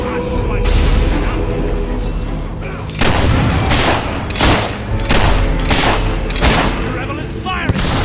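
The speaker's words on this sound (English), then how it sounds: "The rebel is firing!" Rebels open fire in the Fable 3 video game with a rapid fusillade of gunshots and booming blasts. The loud, dense bursts come in repeated volleys over a steady background rumble.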